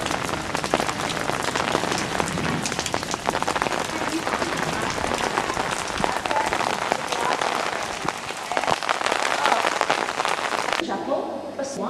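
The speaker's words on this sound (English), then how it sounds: "it's raining very hard" Heavy rain pours steadily, a dense broadband hiss drumming on surfaces throughout, with a voice faintly audible beneath it.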